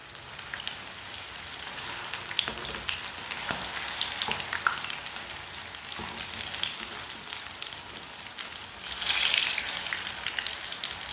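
Gola kebabs frying in a pan, a soft continuous sizzle and crackle with scattered pops and a brief louder burst near the end, no talking.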